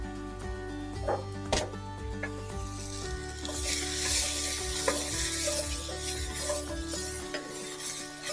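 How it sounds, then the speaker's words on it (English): Vegetables sauté and sizzle in a frying pan for a meatball and potato stew, steady frying hiss with repeated scraping stirs and occasional utensil clinks against the pan, close and fairly quiet. "So we just want to saute this until it's soft."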